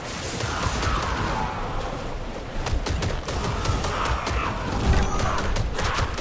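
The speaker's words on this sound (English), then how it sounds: "it does look that's the sound of normally hitting enemies" Titan Quest 2 action-game combat: auto-attack weapon strikes from a Warfare Sweeping Strike and Whirlwind build land on enemies as a dense, continuous barrage of crunchy, whooshing hits and impacts, loud and busy throughout.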